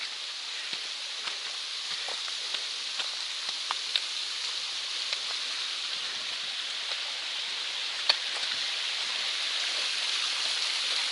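Mountaineer Falls on the Appalachian Trail, a waterfall heard as a steady broadband rush of falling water, continuous and even throughout, with a few faint ticks and rustles and no voices.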